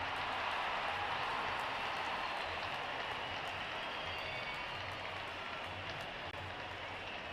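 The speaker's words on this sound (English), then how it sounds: "Wonderful 50 and the crowd applauds." Spectators applauding a batsman's fifty at an India versus Sri Lanka Test match, a faint, distant, steady wash of crowd clapping heard across the ground, with no commentary over it.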